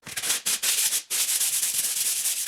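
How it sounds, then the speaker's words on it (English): A sanding block fitted with drywall sanding mesh rubs by hand across a drywall patch, a steady close scratchy hiss in repeated strokes with brief pauses between them. "hand sanding block that I've got some drywall sanding mesh on"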